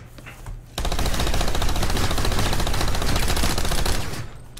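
A continuous, rapid burst of gunfire as a full magazine is emptied at close range, loud and sustained for several seconds with the shots running together into a dense rattle.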